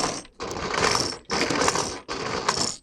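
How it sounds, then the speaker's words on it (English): A noisemaker built into a playground play structure gives loud ratcheting gear-grinding bursts, three long cranks separated by brief pauses, with no talking. "like a gear grinding noise, which is really cool"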